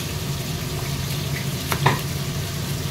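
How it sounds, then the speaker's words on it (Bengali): Fish fry in a pan with a continuous, even sizzle, joined by a couple of sharp clinks or scrapes midway, close and steady with no voices. "মাছগুলো এদিকে ভাজা হোক"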